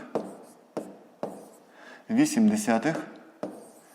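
Pen strokes from numbers written by hand during a fifth-grade math lesson, heard as a few sharp taps and scratches near the microphone, with a teacher speaking in between.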